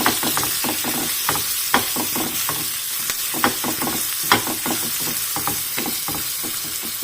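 Chorizo frying in a pan with vinegar and pepper, giving a continuous hiss and sizzle broken by frequent sharp clicks and scrapes of stirring, close and alone.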